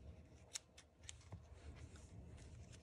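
Sharp, quiet snips of scissors cut wire-cored thread for a crocheted sunflower, with two or three crisp metallic clicks close by in a hushed room.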